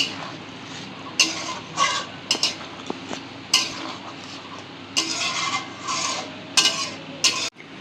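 Paneer is stirred into a thick masala gravy in a pan, with distinct bursts of scraping, squelching spoon strokes separated by brief lulls and a faint sizzle beneath.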